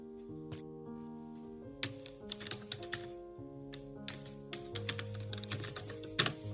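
Typing on a computer keyboard while writing code in an editor, quick irregular key clicks in short bursts over a low tonal music bed.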